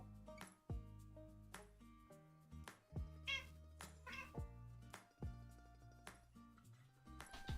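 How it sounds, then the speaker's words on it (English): A cat meows several times during a livestream of a game, short tonal cries rising over the game's background music, with some clinking nearby. "What up, cat?"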